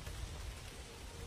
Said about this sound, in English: And it's storming, it's raining